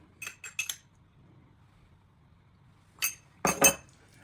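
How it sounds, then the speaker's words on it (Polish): Spoon clinking against a bowl while meat sandwich paste made from broth-cooked meat, seasoned with coarse pepper, is mixed; three quick close taps, a quiet pause, then a louder cluster of sharp clinks near the end. "I teraz wszystko trzeba dokładnie wymieszać."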